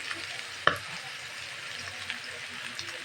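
Cabbage and carrots for a fried rice with prawns, peas and chicken sizzle steadily in a pan, with one sharp clack of the spatula and a few softer scrapes, close by.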